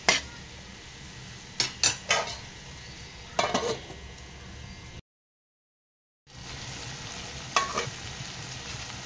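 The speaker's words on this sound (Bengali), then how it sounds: "আবার আমি কিছুক্ষণ কষিয়ে নিলাম, তারপরে মিক্স করে নিলাম" A spice masala for a prawn vegetable curry sizzles softly in a pan as a spoon clatters and scrapes against the metal in several sharp bursts, with a brief silent gap midway.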